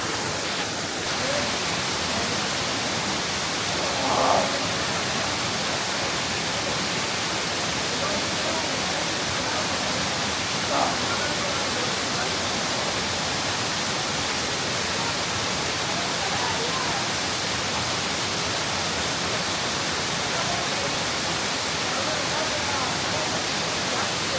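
Rushing current at Pinlac Falls pours as a steady, loud broadband roar for the whole stretch, close and unbroken, with a couple of brief faint knocks rising above it.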